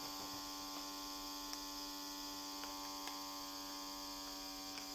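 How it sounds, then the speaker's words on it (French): A small pump draws air out of a vacuum storage bag, giving a steady, quiet electric motor hum with a faint buzzing whine that runs unbroken throughout, with a few tiny clicks and no talking. "on voit l'aspiration, on voit que l'air se vide du sac"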